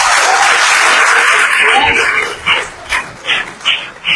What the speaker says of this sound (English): So please, let us give a round of applause to our panelists.